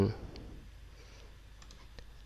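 A computer mouse is right-clicked, giving a few faint, quiet clicks spaced apart over a low background hush.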